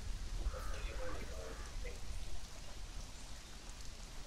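Rain falls in Conan Exiles as a soft, even hiss of drops with a faint rumble beneath, while someone speaks quietly over the top.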